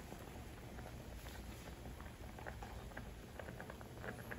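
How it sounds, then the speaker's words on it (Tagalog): Sinigang soup bubbles steadily in a pot, a soft continuous patter of small pops and fizzing, faint and close. "kumukulo na siya"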